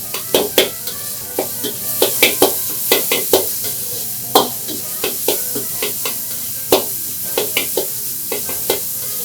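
Minced meat stir-fried in oil over high heat for chilled dandan noodles, a loud crackling sizzle broken by frequent sharp scraping and clanking strokes of a utensil against the pan, close up.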